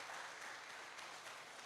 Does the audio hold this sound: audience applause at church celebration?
yes